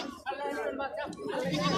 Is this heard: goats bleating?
yes